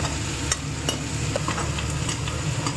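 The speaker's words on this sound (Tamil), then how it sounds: "குழம்பு நல்லா கொதிக்குது" A pot of spicy horse gram curry bubbles and sizzles steadily, with occasional light clinks and scrapes of a spoon against the pan.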